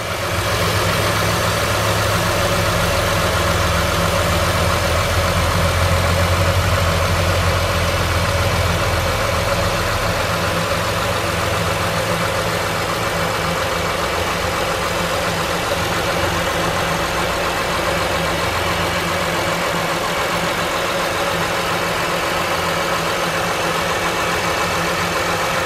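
A 2007 Honda Pilot's 3.5 liter engine idles steadily at a salvage yard, giving a loud, even, continuous hum with a broad hiss and a low throb that holds without change and no talking.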